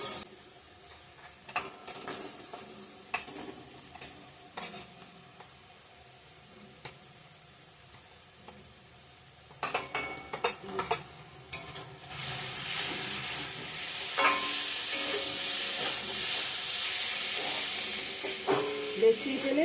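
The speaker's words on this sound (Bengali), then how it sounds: "সব মশলা দিয়ে দিলাম ভালো করে কষিয়ে নিয়েছি তেল ছেড়ে দিয়েছে" Spices and fried pieces for ghugni being stirred in oil in a pan: scattered scraping clicks of a spoon at first, then a loud, dense sizzle that rises and holds steady toward the end.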